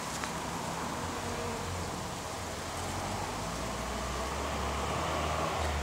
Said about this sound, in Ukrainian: Ось так на плодянці працюють бджоли, середина серпня